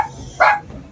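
One short, sharp bark from a dog comes close and loud, standing alone against quiet background noise.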